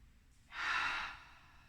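A single deep breath taken during a glute stretching exercise, a soft airy exhale swelling for about half a second and then fading, close and quiet with no talk.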